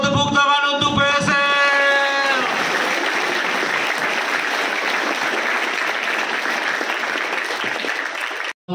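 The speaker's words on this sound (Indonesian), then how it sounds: "tepuk tangan untuk PSM." Loud, dense applause fills a gathering at an Indonesian pesantren (Islamic boarding school) motivational event, continuous crowd clapping sustained to the end after a brief opening of a tonal held sound.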